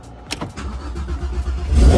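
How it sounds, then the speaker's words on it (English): Porsche 911 GT3 RS engine on a cold start, a short crank burst followed by a steady low rumble that swells louder toward the end, close by with no talk. "let's do a cold start"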